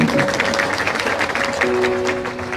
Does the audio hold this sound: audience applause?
yes